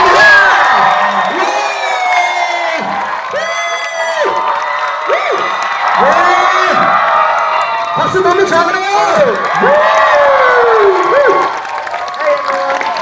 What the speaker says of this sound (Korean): 여러분들 정말 정말 힘찬 박수를 부탁드릴게요